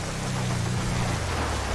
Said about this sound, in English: Although, saying that, it is raining.